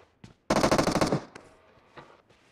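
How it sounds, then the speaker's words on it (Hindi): PUBG Mobile gameplay gunfire: a short dense burst of rapid automatic shots rings out loud and close, preceded and followed by a few single sharp cracks, with no one talking. "तो वो डायरेक्ट फायर कर देते हैं"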